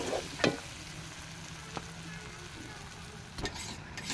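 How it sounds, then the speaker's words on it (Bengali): Spice paste for a Bengali-style chicken and potato curry sizzles steadily in a pan, a soft continuous frying hiss with a few clinks of stirring, close and quiet. "10-15 মিনিট মশলাটাকে কষাবো ভালো করে।"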